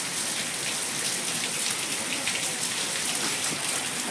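Steady, dense rain pattering continuously, close by and fairly loud, with no voices.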